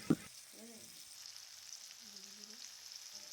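Tomato and ginger-garlic paste fry in a pan with a faint, even sizzle, opened by one sharp knock and interrupted by brief murmured voices.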